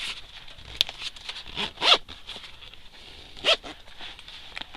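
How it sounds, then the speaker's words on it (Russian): Velcro fasteners on ice-fishing gear are pressed closed, giving a few short rasping crackles, two louder bursts among softer rustling and handling noise. "Это все так вот дело цепляется на вот такие липучки быстро."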